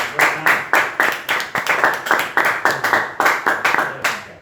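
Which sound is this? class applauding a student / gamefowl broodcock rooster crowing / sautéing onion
class applauding a student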